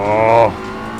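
A race car in Assetto Corsa Competizione revs loudly as its rear end slides out on corner exit, the engine note dropping sharply about halfway through, with the engine tone continuing more quietly afterward.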